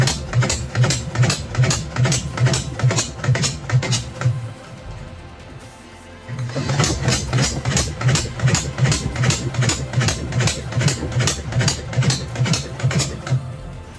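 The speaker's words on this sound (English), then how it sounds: "a working 3D printed internal combustion engine. Let's watch this runs again in slow motion." A 3D printed fuel-injected internal combustion engine running, loud and close with a fast, even firing pulse that drops out briefly midway and then resumes at the same rhythm.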